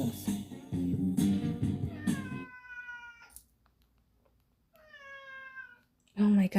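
A house cat gives two long, drawn-out, dramatic meows, loud and close, after a stretch of someone talking in a home setting.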